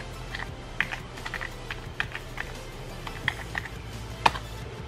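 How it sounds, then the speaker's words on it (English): Scattered keystrokes on an ASUS FX550I laptop keyboard as a password is entered: a dozen or so light, irregular clicks with one sharper tap near the end, close and alone with no talking. "So I'll type my password again."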